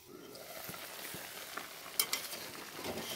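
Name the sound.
radishes frying and being stirred with spices in a pan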